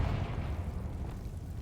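A Confringo fire spell blasts in the video game Hogwarts Legacy, a low, rumbling burst that rolls out and lingers as a dense roar with no talk over it.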